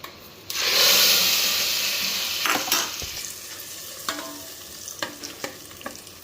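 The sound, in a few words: ghee tadka of makhana and dry fruits sizzling into kheer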